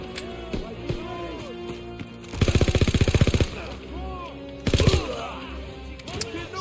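Rapid automatic gunfire bursts from Call of Duty WWII gameplay, one long rattling burst then a shorter one, with scattered game sounds and a player's voice around them.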